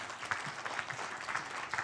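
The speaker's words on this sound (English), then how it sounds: "can I have a round of applause for our wonderful discussion this afternoon?" A round of applause from the audience at an afternoon policy dialogue session on deforestation-free palm oil, steady and moderately distant clapping that keeps an even density throughout.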